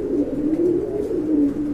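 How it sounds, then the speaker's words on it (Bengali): A pair of large black-and-white magpie pigeons coo steadily and close by, a continuous low rolling coo that lasts throughout with no other sounds. "এক জোড়া ম্যাকপাই কবুতর, মাশাআল্লাহ খুবই সুন্দর, বিগ সাইজের, হোয়াইট এন্ড ব্ল্যাক কালারের"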